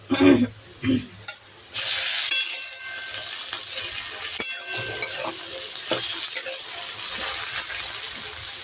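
Tomato is dropped onto fried onions in a pan, and after a few short voiced sounds a sudden loud sizzle flares up and settles into steady frying with faint stirring scrapes.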